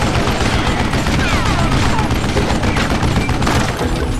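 Gunfire in the Call of Juarez Gunslinger video game, a loud continuous barrage of overlapping shots and booms filling the whole stretch with no let-up.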